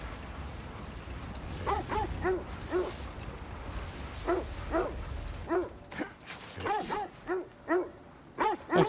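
Dogs in God of War Ragnarök bark repeatedly in short, spaced yips and barks, some in quick pairs, fairly close and clear over a low rumbling background.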